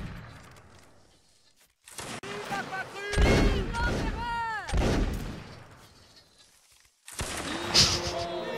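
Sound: gunfire from Napoleonic Wars video game battle

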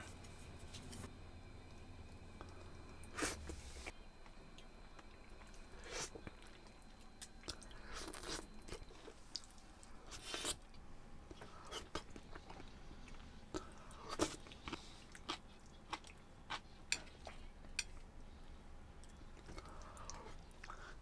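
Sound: eating braised Japanese-style fish scraps, chewing bones

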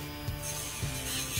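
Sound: nail grinder rounding Vizsla dog's nail edges

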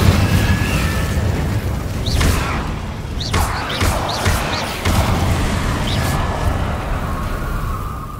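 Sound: Incendio fire spell in video game Hogwarts Legacy

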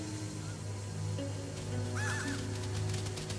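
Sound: birds cawing while being vacuumed in the video game Luigi's Mansion 3

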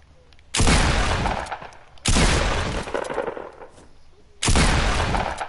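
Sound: gunshots in a video game

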